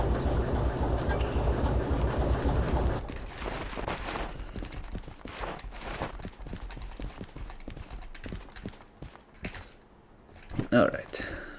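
Train cars being shunted in the snowy harbor yard of Derail Valley: a sustained rumble at first, then a run of scattered mechanical clanks and knocks from couplings and wagons, moderately loud and without talk.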